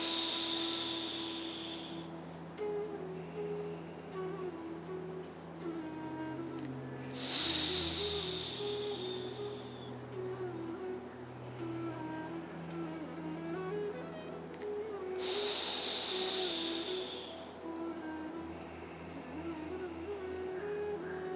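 Slow, hissing exhalations during a yoga breathing exercise, three long breaths spaced several seconds apart, each rising and fading gently, with soft voiced humming between them.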